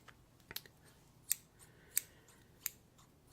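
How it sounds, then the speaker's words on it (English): Crisp scissor snips, about half a dozen sharp clicks spaced roughly evenly, close up in a quiet room. "these have such a nice snip"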